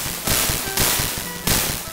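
Three loud firework bursts in the World of Illusion video game, Donald's stage, each a sharp broadband crack with a short crackling tail, spaced roughly half a second apart.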